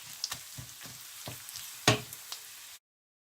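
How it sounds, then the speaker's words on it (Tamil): Mustard seeds, spices and ginger tempering in hot oil for Sri Lankan Tamil tamarind rice, with a few sharp crackles and pops over a soft, close sizzle, one loud burst near the end. "நாங்கள் போட்ட எல்லா தாளித பொருட்களும் நல்ல வடிவாக தாளித்து"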